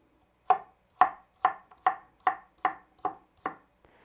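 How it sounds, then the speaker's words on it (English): A knife chops courgettes on a board with eight crisp, evenly spaced thuds about half a second apart, close and clean with nothing behind them. "So once you've chopped your kilo of courgettes"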